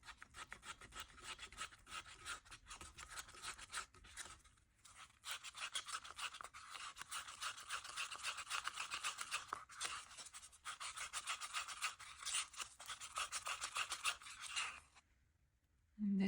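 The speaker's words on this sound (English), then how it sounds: "let's give it a good stir and see what it looks like" Epoxy resin gets stirred in a cup with a steady scraping and rubbing rhythm, close and fairly quiet, pausing briefly midway before ending with a soft knock.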